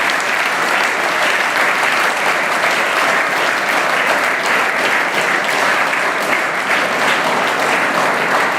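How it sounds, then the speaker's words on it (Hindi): A large school audience gives thunderous applause to an honoured guest, a dense, loud, continuous roar of many hands clapping that holds steady for several seconds. "एक बार साहब के लिए जोरदार तालियां बजाएं।"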